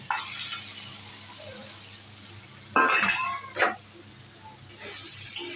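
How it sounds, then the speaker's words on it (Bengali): Potatoes tumble into a pan of fried spices for mochar ghonto, a bright clattering splash at the midpoint followed by a second knock and a soft sizzle, with clinks of utensils against the pan. "মশলাটা কষানো হয়ে গেছে আলুটা দিয়ে দিচ্ছি"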